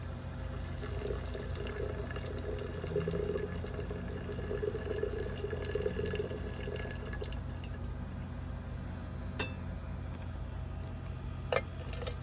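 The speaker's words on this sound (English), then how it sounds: "Get some more water in here." Water runs steadily into a container during gold refining of karat gold, a faint, continuous trickling and filling with a couple of sharp clinks near the end.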